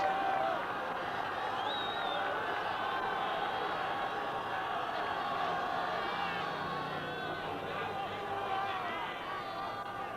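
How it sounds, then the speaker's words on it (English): A stadium crowd at a 1968 rugby Test between Argentina and Wales keeps up a steady, fairly loud roar of cheering and general noise, with scattered whistles and shouts on top. "The crowd obviously not as vociferous as they would have been if the Pumas were leading"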